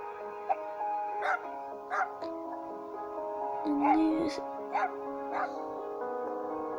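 A dog gives several short, whiny barks and yips at irregular intervals over a sustained musical tone with a voice-like melody.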